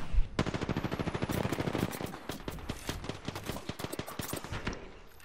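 Rapid automatic gunfire in a video game, a dense stream of sharp cracks in quick bursts for several seconds, close and loud with brief gaps.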